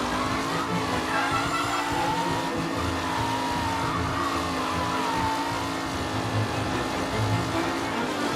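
Vintage race cars speed around a track in Mafia Definitive Edition, engines droning loudly and continuously with shifting pitch, joined by tire squeal and skidding as the pack fights for position.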